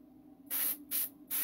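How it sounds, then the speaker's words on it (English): Three short bursts of a single action airbrush spraying paint on a pumpkin, each a crisp hiss lasting about a quarter second, separated by brief pauses, close and fairly loud against a quiet background. "It's a single action airbrush, meaning you press that, air goes out and paint at the same time"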